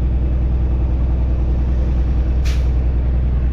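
A truck's air brakes give a single sharp hiss during a brake check, heard over a steady idling engine rumble, with no talking.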